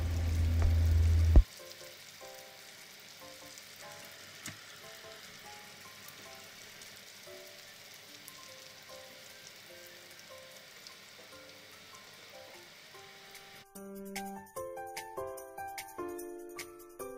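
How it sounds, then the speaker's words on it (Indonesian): Medan anchovies and peanuts fry in oil with a faint, steady crackling sizzle, largely under soft background music. "Teri dan kacangnya digoreng."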